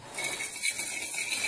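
A spoon clinks against a bowl while stirring sugar into a salad dressing of salt, olive oil and water, with a few light metallic taps and scraping.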